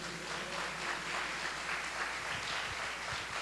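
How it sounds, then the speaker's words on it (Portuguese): A church congregation applauds during a sermon, giving a broad, steady wash of clapping from many hands in a large room, sustained and even at moderate level. "Vamos dar uma salva de palmas a Deus por isso."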